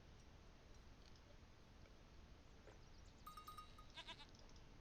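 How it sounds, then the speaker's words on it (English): Goats in Age of Empires III: Definitive Edition bleat in a short, faint burst near the end, over soft, steady game ambience. "picking up as many of these goats as possible"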